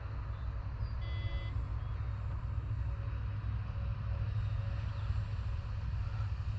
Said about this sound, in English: Somebody's beeping somewhere.